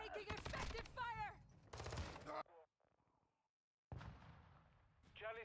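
Bursts of automatic gunfire from the video game Call of Duty: Modern Warfare III, loud and close, with a short quiet gap mid-clip before another heavy volley; voices shout over the shooting.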